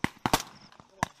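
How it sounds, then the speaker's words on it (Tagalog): Rifle shots crack out during a joint Philippine and US Army training exercise in dense terrain at Fort Magsaysay, Nueva Ecija: three sharp bursts close together, then a single report after a short gap. "Sunod-sunod na putok ng baril ang umalingaw-ngaw sa masukal na bahagi ng Fort Magsaysay"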